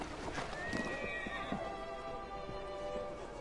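Horse in Assassin's Creed Syndicate gives a clear, fairly close neigh with a trailing whinny, accompanied by soft clip-clop hooves and a low background hum, with no talking over it.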